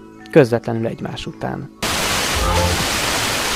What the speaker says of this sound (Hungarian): A most következő felvételen 2 pinget is hallani fogunk.